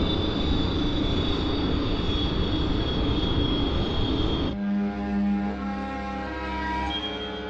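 Sound effect of an airliner approaching New York International Airport to land: a steady, loud engine roar with a whining tone that shifts abruptly partway through into a lower, more tonal hum.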